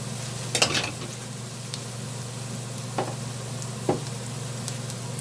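Young-leaf pancake batter made with frying mix frying in a generous pool of oil, a soft continuous sizzle with a low steady hum beneath and a few faint scrapes and taps, no talking.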